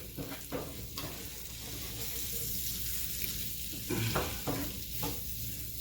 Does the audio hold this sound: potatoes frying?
yes